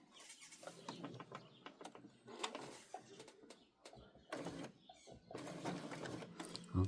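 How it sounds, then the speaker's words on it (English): A sewing machine stitches through rope, whirring in steady mechanical bursts that stop and restart, close and fairly quiet, with short pauses between runs. "I hand wheel around that part so that I can see where my machine is stitching"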